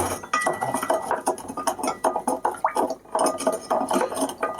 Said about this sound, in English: I can just start muddling our sugar cube.